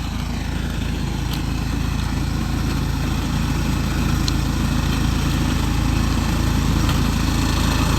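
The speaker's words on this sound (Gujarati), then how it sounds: "આજે આવી ગઈ છે આપણે ખેતરમાં ચરવાડવાનું મશીન" A new grass-cutting machine runs continuously in a farm field, its engine droning steadily and loudly at close range without a break.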